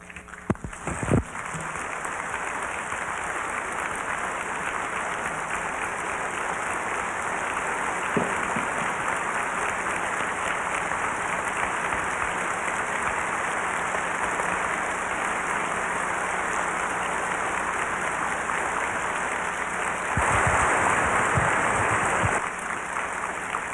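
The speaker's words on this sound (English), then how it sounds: "Would all the speakers please stand for a moment and accept another round of applause?" Sustained audience applause at the 1989 Noreascon 3 World Science Fiction Convention as the speakers stand: a dense, even wash of many hands lasting over twenty seconds and swelling slightly louder near the end.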